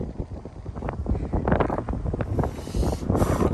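Wind blowing at the top of a fire watch tower in West Virginia, loud and gusty with rushing buffeting against the microphone, rising and falling throughout.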